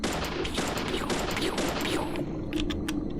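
Gunfire from the Deadly Premonition video game comes as a dense burst of sharp, loud shots in quick succession, then a few spaced cracks near the end.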